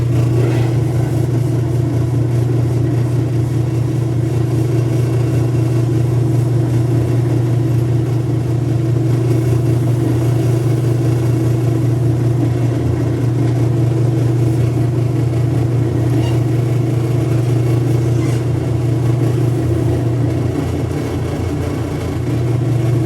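Whirlpool washer with a bad clutch runs steadily, a loud continuous low hum and drone holding level throughout with no speech.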